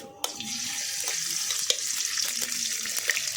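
Ghee heating and starting to sizzle in a kadhai before wheat flour is added for sukhdi, a steady soft frying hiss with a few faint clinks, close and quiet, with no speech.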